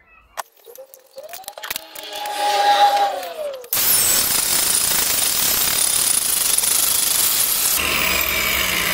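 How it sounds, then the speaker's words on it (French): A handheld angle grinder sanding wood outdoors starts with a rising whine, then roars into a loud, sustained abrasive grind that holds steady, close and dominant, before shifting to a slightly different tone near the end. "Allons-y, meuleuse."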